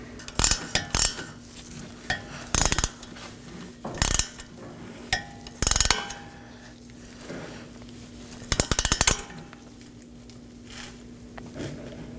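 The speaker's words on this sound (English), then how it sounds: "Now I'm going to snug it down with my 18mm wrench." An 18mm wrench snugs down a control arm nut on a 2018-2024 Chevrolet Equinox during a front CV axle replacement, giving about six short, crisp metallic ratcheting bursts spaced a second or two apart against a quiet garage.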